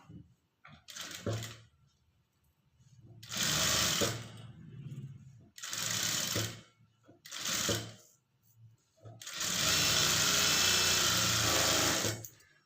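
A sewing machine stitches a blouse in four separate whirring bursts, the last and longest running about three seconds, with near-quiet pauses between runs.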